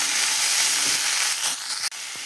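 Chopped pumpkin and potato with salt and turmeric hiss and sizzle steadily in hot oil as they are stirred. The frying noise stays close and continuous, with a brief dip near the end.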